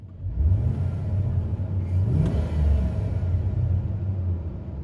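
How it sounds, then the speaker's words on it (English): A stock Duramax diesel pickup engine runs steadily nearby, a deep low rumble with a brief swell of revs midway, no talking over it. "Sounds like a diesel."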